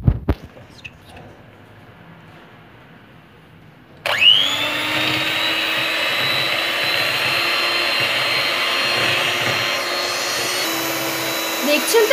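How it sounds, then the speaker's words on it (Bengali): An electric hand mixer beats biscuit chocolate cake batter. After a few seconds of quiet with small knocks, the motor switches on abruptly and holds a loud, steady whirring whine close by until the end. "এখন এটা আমি একটি হ্যান্ড মিক্সার দ্বারা মিক্স করে নিচ্ছি।"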